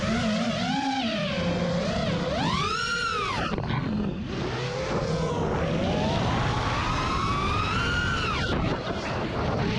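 An FPV quadcopter drone with RCINPOWER GTS-V2 2207 motors flies nearby, its high motor whine rising and falling in pitch through repeated throttle punches and swoops, loud and continuous throughout.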